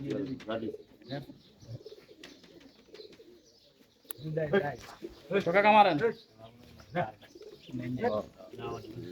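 Pigeons coo in soft, rolling bursts at a small pigeon tournament while people talk nearby, the cooing rising clearly in the middle.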